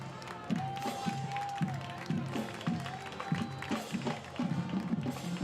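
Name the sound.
Tioga fans cheering at a football game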